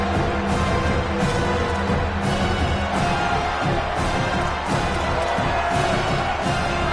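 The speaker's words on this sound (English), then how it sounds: "The Tide crowd rolling noise down onto Saban Field on 3rd down" A stadium crowd in a college football video game roars and cheers continuously on third down at Alabama's home field, a dense wall of noise with occasional swells and thumps.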